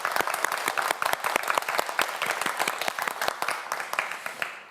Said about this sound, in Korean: 김창기 학생을 위해서도 큰 박수 부탁드립니다.